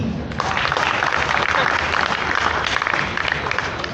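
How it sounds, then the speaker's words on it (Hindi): An audience at a Hindi department event at Jamia Millia Islamia applauds the first-place winner, a dense, steady burst of clapping close and loud for the full four seconds, with some voices mixed in. "तो वो जो चुना गया उसके लिए आप ताली अच्छे से बजा सकते हैं"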